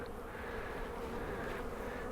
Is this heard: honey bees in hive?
yes